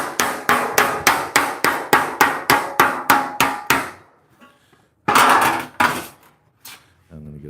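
Rapid, evenly spaced soft-hammer blows shaping metal on a dolly for a 1938 Cadillac, about a dozen sharp strikes close by, then a pause, a short burst of noise, and a few lighter taps.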